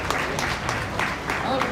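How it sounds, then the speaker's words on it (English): Applause for exhibitors at a beef cattle breeding show, a steady patter of clapping from a crowd holding even for the whole short stretch, with some talk mixed in. "Let's give those exhibitors a nice round of applause again."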